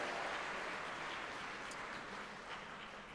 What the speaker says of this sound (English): Let's have a cheer for everyone on the live stream.